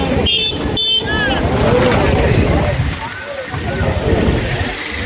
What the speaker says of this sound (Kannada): ನೋಡಿ ಸ್ನೇಹಿತರೆ ಈ ಕಡೆಯಿಂದ ನೀರು ಆ ಕಡೆ ಸೈಡ್ ಹರಿತಾ ಇದೆ